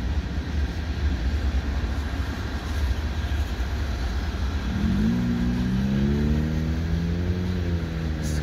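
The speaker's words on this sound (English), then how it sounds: "I got a CP train coming fast." CN freight train hauled by three locomotives, including two ex-Citirail ES44s, passing a bike path at Cardinal Avenue in Dorval: a steady loud rumble of rolling cars, with a rising horn-like tonal engine sound joining in the second half.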